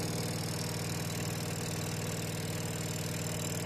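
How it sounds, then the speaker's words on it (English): Excavator engine idling with its hydraulics warming up in cold weather, a steady close diesel drone with a low rhythmic throb, no talking. "Hydraulics, they're warming up,"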